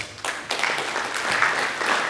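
Audience at an energy symposium applauding NLNG, a dense wash of clapping that starts abruptly and holds steady at moderate loudness for about two seconds.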